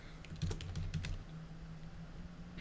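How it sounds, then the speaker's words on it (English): Fingers type quickly on a computer keyboard, soft close clicks clustered near the start and then thinning out over a low steady hum. "So let me type that out."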